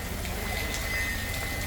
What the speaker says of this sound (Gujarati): બપોરે 12 વાગ્યાથી વરસાદ ચાલુ છે।